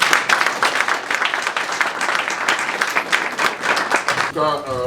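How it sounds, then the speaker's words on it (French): An audience in Paris applauds a Congolese speaker at a political gathering, sustained crowd clapping with a faint voice or two underneath, ending as a tonal voice begins to speak at the close. "On l'applaudit s'il vous plaît pour la parole."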